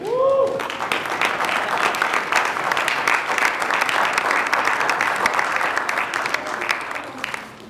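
Audience applause at a Martin Luther King Jr. birthday celebration as a speaker comes to the stage, dense sustained clapping following a brief voice at the start, tapering off at the end.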